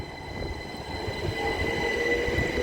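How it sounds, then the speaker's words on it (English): Great Western Railway class 387 electric train departing Didcot Parkway station, a steady close rumble of wheels with high metallic squealing, continuous and fairly loud throughout with no talk. "Our departing is going to be the 1217 Great Western Railway service to London Paddington, starting here at Didcot Parkway"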